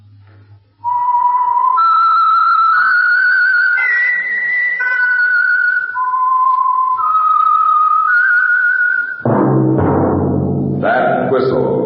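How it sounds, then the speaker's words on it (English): A lone whistler carries the theme melody of the Signal Oil radio program The Whistler in clear, sustained notes that step up and down. A voice starts speaking near the end. "That whistle is your signal for the Signal Oil Program, The Whistler."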